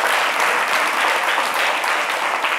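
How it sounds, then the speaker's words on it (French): Dense, loud applause from an audience on a TV show greets a children's dance performance, the steady clapping filling the moment without pause. "On peut les applaudir encore bien fort."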